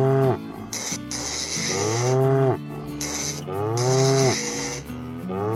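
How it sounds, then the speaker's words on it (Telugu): A frightened cow moos loudly and repeatedly, three long drawn-out lowing calls in close succession, near and clear with no speech. "ఆవు పెద్ద పెద్దగా అరుస్తూ ఉంటుంది"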